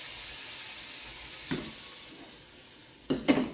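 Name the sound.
butter sizzling in pan on high heat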